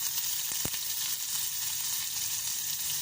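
Garlic and small onion frying in oil with mustard seeds, a continuous close hiss with a couple of brief clicks from a utensil, no voices.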